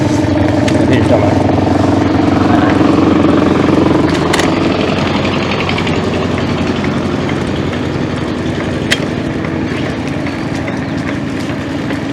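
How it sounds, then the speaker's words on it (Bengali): A river trawler boat's engine chugs steadily near a village canal, heard from a bicycle on the bank, the idling drone loud at first and easing slightly, with a voice talking over it. "নদীর ট্রলার।"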